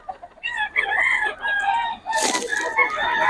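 Roosters crow loudly and close at a gamefowl market in Bocaue, several overlapping calls with clucking in between and a sharp burst of noise midway.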